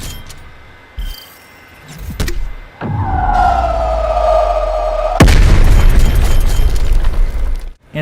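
Spawn tube launcher shot in Black Ops Cold War on the Yamantau map: a sharp boom near 2.8 seconds, a sustained whistling rush of the projectile, then a loud burst of blast noise around 5.2 seconds.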